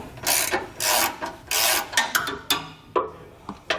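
A hand ratchet cranks in quick rasping strokes, loosening 13mm bolts from a frame-rail bracket on a 2014 Thor motorhome during a steering stabilizer installation; the bursts run close and fairly loud, then turn choppier and shorter.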